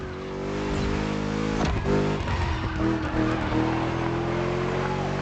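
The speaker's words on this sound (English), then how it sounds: "Just listen to that V8 like a chunky, down-tuned guitar riff." A V8 car engine in The Crew Motorfest roars and revs with deep, throaty growl, tires squealing briefly as it accelerates through a turn.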